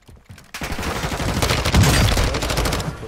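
A rapid volley of gunshots in a first-person shooter video game starts suddenly after a brief quiet moment, then keeps up as a loud, continuous stream of shots.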